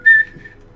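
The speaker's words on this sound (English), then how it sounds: "Whistling" A person whistles a short melodic tune from Mega Man, one bright sustained note fading into a softer held tone, close and alone with no talking.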